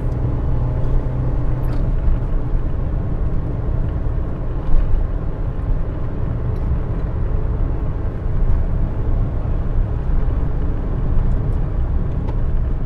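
A Metro car's engine drones in a low, steady rumble as it labours up a big hill. The motor note stays even throughout, with road noise and no talking.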